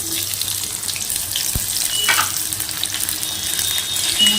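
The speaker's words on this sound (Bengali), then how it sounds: "এবারে আমি তেলে পেঁয়াজটা দেবো" Onions sizzle and crackle steadily in oil in a pan, a soft continuous frying hiss with a brief clink partway through.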